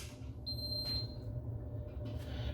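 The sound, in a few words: electric kettle beeping when switched on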